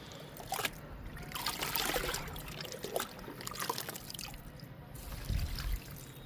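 Liquid trickles and drips onto a potted plant near a cherry and a pomegranate plant, a soft, uneven pour with small splashes close by.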